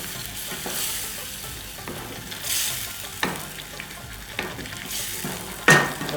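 Garam masala and butter stirred in a frying pan for restaurant-style matar paneer, a steady sizzle with several scraping stirs of a spoon against the pan, close and without talk.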